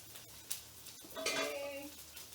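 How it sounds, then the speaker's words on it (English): Cooked kale and parmesan pasta pours into a colander with a rushing splash of water lasting about a second, after a light clank of pot or utensil; close, no talking. "So I'm just draining my pasta."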